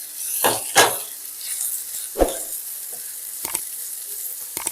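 Chopped beans, carrots, potatoes and papaya fry over a low flame for a chicken stew, with a few loud stirring and scraping strokes of a spoon against the pan over a soft background sizzle.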